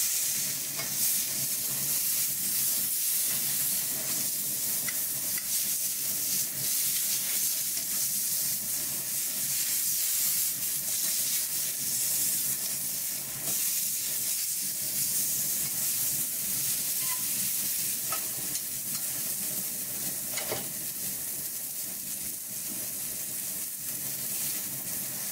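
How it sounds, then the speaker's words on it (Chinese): Filet steak sizzling steadily in a thick cast iron pan over low heat, a close, continuous frying hiss with faint crackles that holds at an even level throughout. "只有在你用铸铁锅、生铁锅在煎"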